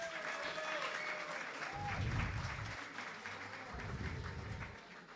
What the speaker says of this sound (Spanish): otro fuerte aplauso, por favor, para la tuna de la Universidad Autónoma de Chiapas